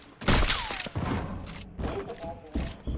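Sniper rifle shots crack sharply in a first-person shooter video game, several loud close bursts spaced across the moment with brief echoing tails.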